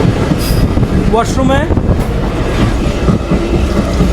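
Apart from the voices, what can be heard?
passenger train running on tracks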